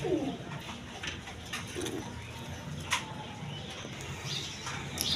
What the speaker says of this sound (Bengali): দর্শকবৃন্দ, এখানে আরেক পেয়ার কবুতর আছে